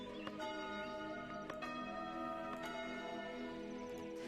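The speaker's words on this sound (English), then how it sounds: "that's what our bell would sound like" A church bell set in the village-building game Foundation, tolling with sustained ringing tones and a few repeated strikes layered over a steady hum.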